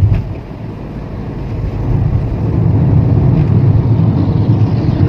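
A Geely Coolray SUV accelerates, its engine and exhaust giving a low, steady rumble that swells after the first couple of seconds and then holds, mixed with wind buffeting.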